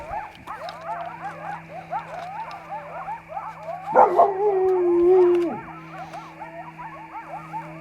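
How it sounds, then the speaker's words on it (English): A chorus of coyotes yips and howls in the distance, with one long wavering howl rising above the others, over a steady low hum. "Coyotes are getting after it tonight."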